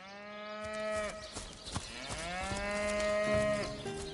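A cow from the video game Divinity: Original Sin moos twice in long, drawn-out, clear calls, close and loud, with no talk over them.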